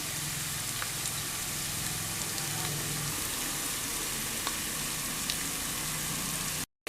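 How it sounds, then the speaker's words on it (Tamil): Grated coconut fries in hot ghee with a soft, even sizzle and occasional tiny pops, heard up close and steady until it cuts off abruptly. "இதில் முதல்ல இந்த தேங்காயை நல்லா ப்ரௌன் கலர் வர்ற மாதிரி வறுத்து எடுத்துக்கலாம்."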